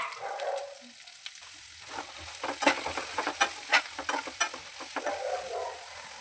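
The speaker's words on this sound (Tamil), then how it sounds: "நல்லா வெங்காயம் வறுத்தாச்சுங்க." Onions and garlic frying with cumin in a pan for radish chutney, a steady sizzle with scraping stir strokes and irregular clicks of a utensil, close and moderately quiet.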